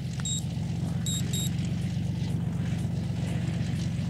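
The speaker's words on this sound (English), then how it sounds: "Murdoch starts the plane's engines while Hannibal and Face lift B.A. into it." The engines of a propeller plane drone steadily out in the desert, a loud low rumble that runs through the whole stretch, with a few faint high beeps near the start.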